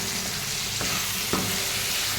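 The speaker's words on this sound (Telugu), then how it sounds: "ఇక్కడ పప్పు అయితే తాలింపు తీసుకున్నాం." A tempering for dal sizzles hot in a pan, a steady close frying crackle with a couple of brief sharper pops and no talk.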